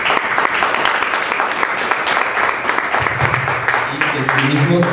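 An audience gives a strong round of applause for a speaker at a Mexican radio gathering, dense clapping close and loud throughout, with a voice beginning to speak over it near the end.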